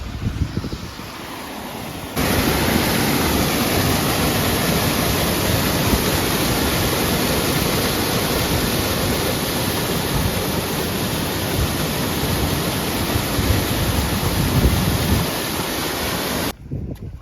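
Steady roaring rush of Sea of Japan surf breaking on a rocky shore near Vladivostok, loud and continuous with heavy wind buffeting the microphone, no voices.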